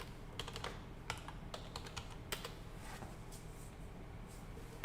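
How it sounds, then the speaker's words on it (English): Steady typing of a password on a computer keyboard during a Linux lab login, keystrokes clicking in quick uneven runs over a low background hum. "So we're going to type it in again."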